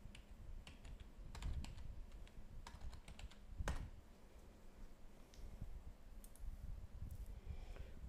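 Someone types on a computer keyboard nearby, producing a quiet, irregular patter of key clicks over a low steady hum, with no one speaking.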